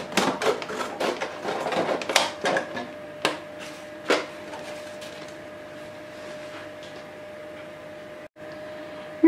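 Plastic milk bottle being cut apart with scissors, a run of sharp crisp snips and crackles close by, dense at first and then thinning to a few separate cuts before a quiet stretch.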